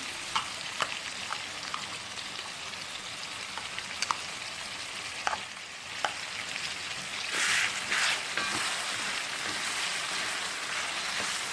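Curd and masala being stirred in a pan for Malabar chicken biryani, a steady close sizzle with scattered spoon scrapes and clicks against the pan, no voices.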